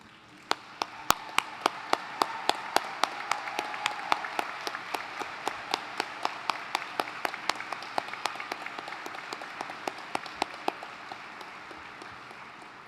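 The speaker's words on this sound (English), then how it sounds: "stand and receive the applause of the graduating class" Sustained applause from the graduating class at a college convocation, dense clapping with a few sharp distinct claps standing out, steady throughout and fading slightly toward the end.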